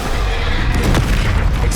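A Flipendo spell strikes its target in Hogwarts Legacy, a single dull, booming magical impact with a soft burst that rings out loud and close over low ambient rumble.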